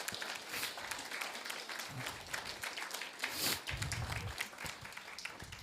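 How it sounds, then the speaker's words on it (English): Scattered applause from a modest crowd at a community meeting, soft and somewhat distant, a few seconds of steady clapping. "Let's give her a round of applause."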